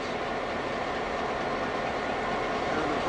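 A Grand Trunk Western GP9 diesel locomotive runs on the mainline beside a large grain elevator, giving a steady, loud, continuous engine and rail rumble with no pauses.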